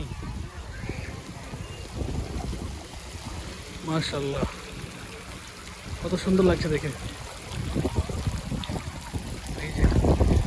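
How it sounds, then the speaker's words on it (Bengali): Water drips and trickles from a fountain in a children's play area of a park in Saudi Arabia, making a steady, rain-like splatter under people talking nearby. "এই যে ফোটা ফোটা আকারে পানিগুলো পড়ছে, দেখতে দারুণ লাগছে একদম, মনে হচ্ছে যেন বৃষ্টির পানি পড়ছে"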